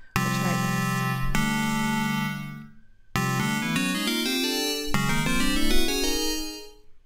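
Chords struck on the pads of a Maschine MK3 in chord mode, two loud sustained synth chords with bright harmonics that ring out and decay, the second followed by further overlapping hits, with no talking.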